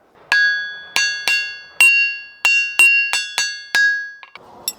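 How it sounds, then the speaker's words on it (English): A hammer strikes an anvil about ten times in an uneven rhythm, each close, loud metallic hit carrying a short ringing tone that fades quickly. "See how the anvil, it's lost its ring."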